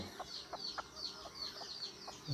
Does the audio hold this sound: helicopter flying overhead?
no